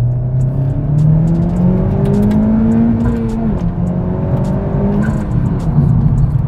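A Honda Civic Type R pulls hard in second gear, its engine note climbing steadily in pitch as it accelerates. The sound is loud and close, drops briefly at a shift, then rises again, with no speech.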